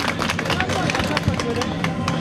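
Outdoor picnic crowd at a village association gathering clapping hard in steady applause, with murmuring voices mixed in.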